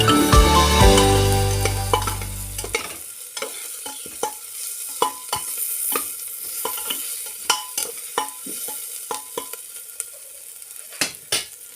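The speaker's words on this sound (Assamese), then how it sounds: "আৰু মই হালধিটো তেলতে দি দিম" Turmeric frying in hot oil in a home kitchen, a loud sizzle at the start settling into a steady fry, with repeated sharp scrapes and clinks of a spoon stirring the pan close by.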